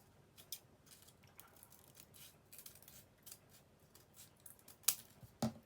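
Scissors snip through card for a homemade Mother's Day card, a series of quiet irregular clicks and crisp cuts up close, with a couple of louder snips near the end and no talking.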